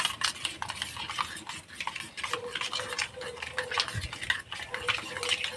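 Yogurt with green chili paste, black mustard paste, sugar and a little turmeric being whisked in a bowl, giving soft repeated scraping and stirring strokes with light utensil clicks, steady and close.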